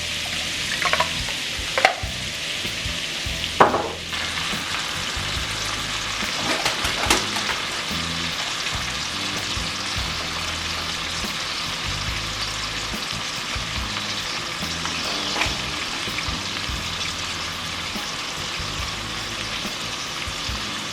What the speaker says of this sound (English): And then we can go ahead and add our shrimp in.